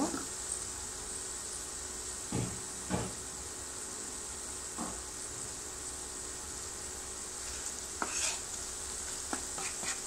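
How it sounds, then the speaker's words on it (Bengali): Coriander and turmeric frying with onion in a pan give a quiet, steady sizzle, with a few scraping stirs of a utensil scattered through. "ধনে, হলুদ এগুলো আমি পেঁয়াজের সাথে ভেজে নিব, তখন এটা আরও ভাজা ভাজা হয়ে যাবে।"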